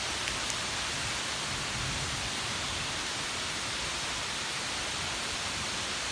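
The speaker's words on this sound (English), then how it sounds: "Now you can see just how much it's raining out here." Heavy rain pouring down outdoors during a thunderstorm at night, a steady dense broadband roar of water hitting surfaces, continuous and loud with no voices.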